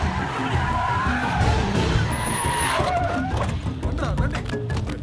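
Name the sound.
auto rickshaw driving off, tires skidding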